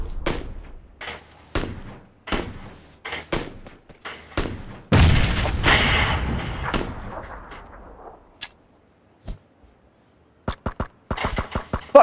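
Grenade blasts and gunfire in PUBG, with sharp shots, one long rumbling explosion in the middle and more scattered shots before and after, no voices.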